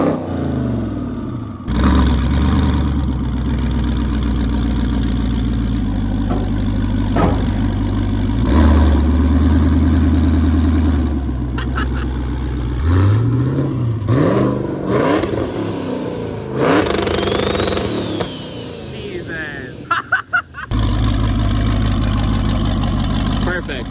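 A twin-turbo Chevrolet Silverado High Country truck on 28-inch wheels rumbles at a deep, loud idle, then revs hard several times with rising and falling sweeps while people talk nearby.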